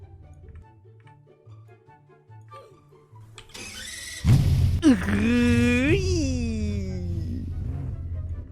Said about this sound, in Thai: เรามาลองฟังเสียงเครื่องยนต์ชัดๆกันเลยดีกว่า